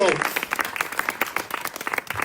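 An audience claps for guests Navid Freedom, a busy burst of applause that swells and thins with distinct hand strikes, a voice briefly audible at the very start.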